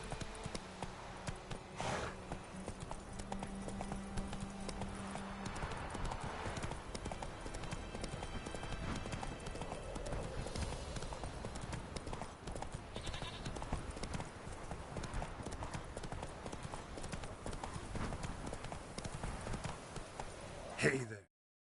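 Horse hooves clip-clopping steadily throughout a Witcher 3 gameplay scene, with game ambience and occasional faint voices mixed in, ending in a brief louder burst.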